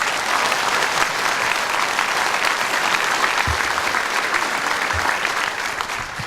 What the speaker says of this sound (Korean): 큰 박수 한번 해주십시오.